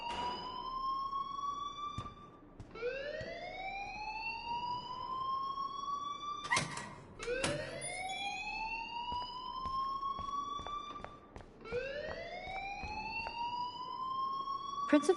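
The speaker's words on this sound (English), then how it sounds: "please turn off that alarm since that's your job." An electronic alarm wailing in the video game Life is Strange, repeated rising siren sweeps with sharp clicks between them, loud and continuous throughout.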